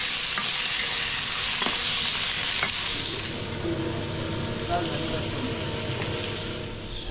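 Chicken frying in a hot pan in a traditional Nepali kitchen in Kathmandu, a steady loud sizzle with stirring scrapes throughout, easing slightly partway through, with brief voices in the background.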